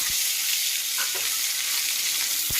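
Fish frying in hot oil gives a steady, loud, bright sizzle, with a couple of soft knocks in the pan.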